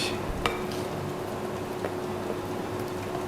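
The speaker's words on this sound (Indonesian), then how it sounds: "Ini kita aduk hingga tercampur dengan rata." Chocolate marble cake batter, flavoured with chocolate paste, is stirred in a bowl until evenly mixed, giving a soft continuous scraping and swishing with faint clinks under steady background noise.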